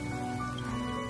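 Steady rain falling in a video game, a dense, even patter of raindrops holding at moderate loudness throughout, with no voices.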